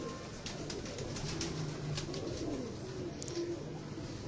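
Pigeons in a loft coo repeatedly in low, rolling calls, several overlapping near at hand over a steady background hum.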